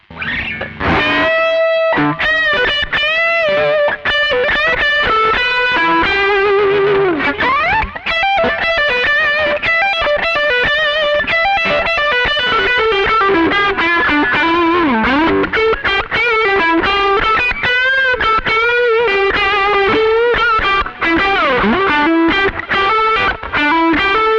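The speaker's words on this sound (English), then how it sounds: "the lead patch, brings in the boost on the 63OD, which gives me a really fluid, lovely lead sound" A heavily overdriven electric guitar, boosted by a Koch 63 OD and played direct without an amp, plays a fluid, sustained lead melody with fast runs and bends, loud and continuous throughout.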